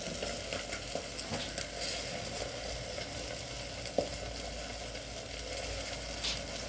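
Mutton with new potatoes sautés in a pan with an even, continuous sizzle, broken by repeated scraping stirs and one sharp clink of the spoon.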